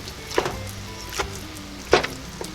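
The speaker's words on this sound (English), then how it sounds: "Now we'll just mix all this in real good." A spoon mixes beef and bean burrito filling in a pot, producing a few sparse, sharp knocks and scrapes against the side, separated by quiet pauses, up close and alone.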